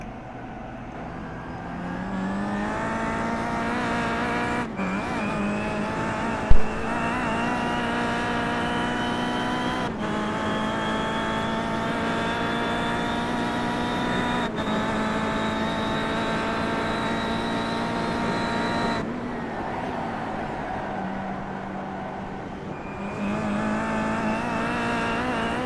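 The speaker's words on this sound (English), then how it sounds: "Let's listen to Robert Fagg on his second to the last lap" Onboard sound from a race car in the final laps at Sebring: a loud, close engine screaming up through the gears, dipping sharply at each shift and braking zone, then climbing again on long straights.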